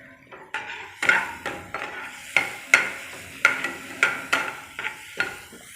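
Potatoes, green chilies and green onions frying in a pan while being stirred, a rhythmic series of sharp scrapes and clinks from a spoon against the pan about once a second over a soft sizzle, close up with no speech.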